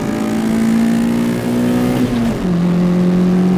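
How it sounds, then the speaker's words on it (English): A Toyota Corolla FXGT with its 4A-GE engine revs hard and close, holding a steady high-pitched note, then dropping slightly as it shifts and climbs again, loud and sustained with no voices. "Oh, 4AG sounds so good."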